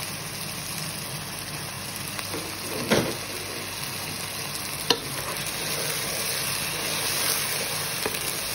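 Biryani ingredients sizzle steadily while frying in a pan, a constant close hiss broken by a couple of louder clinks and stirring scrapes.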